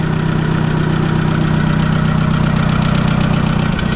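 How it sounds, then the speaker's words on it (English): A SEAT Ibiza engine idles loud and close after an engine swap, with a steady low rumble and a rapid pulsing rasp from a blowing exhaust, running evenly throughout. "It's noisy. Yeah, the exhaust, I still need to do it all. This is an exhaust blow"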